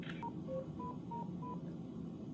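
A cell phone sounds a series of short, clean electronic beeps in an irregular pattern, fairly faint over a low room hum.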